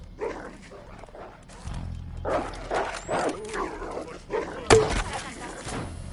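Dogs in the Resident Evil Resistance video game bark in short, repeated bursts amid game noise, with some growly, rough barks rising and falling over several seconds.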